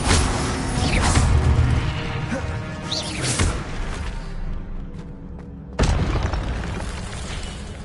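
Casting the Accio spell in a Harry Potter wizard game makes a sharp magical burst with whooshes, among booming spell blasts and explosions in a chaotic fight. A voice calls out spells throughout.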